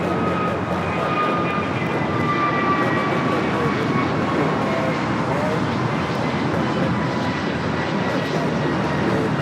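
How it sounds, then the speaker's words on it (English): An American Airlines Airbus A321neo takes off at Los Angeles, giving a loud, continuous jet roar with a thin engine whine that slowly falls in pitch. "This is American Airlines Flight 59 taking off to Kailua Kona on the A321neo."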